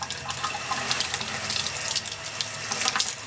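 Hot water runs steadily from a kitchen tap into a sink, a close, continuous splashing hiss with small fluctuations in flow and no talk.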